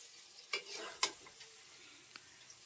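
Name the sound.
stirring masala frying for aloo dum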